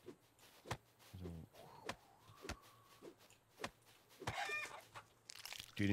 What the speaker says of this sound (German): Wie Hühner hier einfach immer spawnen, so random.